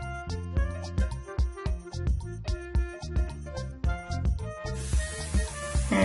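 Background music plays with a steady beat, then near the end a short burst of cooking oil spray hisses over tofu in an air fryer basket.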